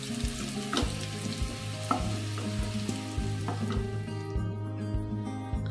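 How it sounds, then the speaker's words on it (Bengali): Potatoes frying in oil in a kadai for a vegetarian aloo dum crackle and sizzle continuously beneath prominent tonal background music with soft rhythmic beats. "একটু সময় নিয়ে আলুটাকে ভেজে নিতে হবে।"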